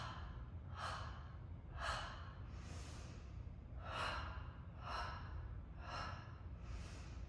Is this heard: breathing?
yes